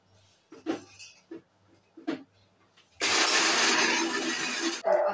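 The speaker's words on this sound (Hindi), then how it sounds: "और मिक्सी में चला लूंगी, हल्का दरदरा हो जाए" Mixer grinder crushing dry fruits and sugar coarsely for kulfi, a loud continuous whirring grind lasting about two seconds after a few soft knocks and handling sounds.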